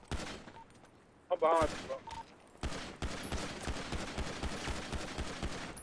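Gunfire from the GTA RP video game, a burst of rapid shots followed by sustained dense firing under shouted voices, loud and close throughout.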